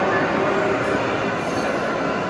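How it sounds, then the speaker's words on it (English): A Brightline passenger train rolls past loudly in downtown West Palm Beach, Florida, a dense continuous roar of wheels and rail with high squealing streaks overhead, close and steady. "Brightline train's coming this way."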